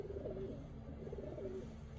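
Pigeons at a window feeder give soft, low, repeated cooing calls while scuffling, faint and close against a steady background hum.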